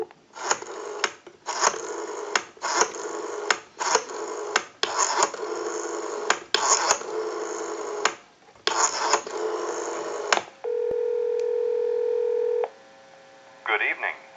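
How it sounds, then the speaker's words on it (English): A Western Electric 500 rotary telephone dials a number in a series of short bursts with brief gaps, followed by a steady ringing tone on the line. "We're going to call that number."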